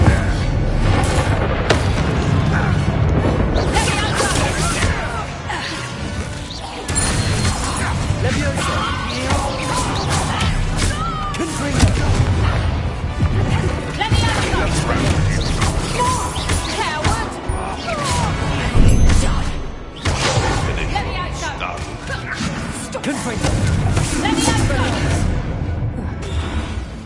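Fiery spell explosions from Hogwarts Legacy combat: a dense, loud run of booming blasts and crashing impacts across the whole stretch, with a voice speaking over the battle.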